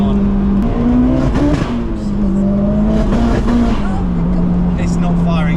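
Turbocharged Honda S2000 at full boost, its engine droning steadily and loudly with uneven misfires and pops breaking through, while a voice talks over it.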